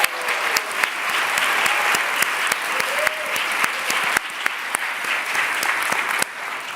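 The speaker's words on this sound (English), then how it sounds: "Please give them a big round of applause." A large audience at an award ceremony applauds award finalists with dense, steady clapping that holds for several seconds before tapering slightly at the end.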